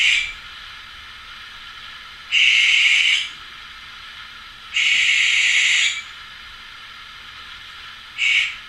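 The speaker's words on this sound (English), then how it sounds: "I'm gonna type in the owl sound so y'all can hear that." An owl call played back from a recording: three long hissing, screechy bursts and a short fourth one, fairly loud and separated by quiet gaps, with no talking.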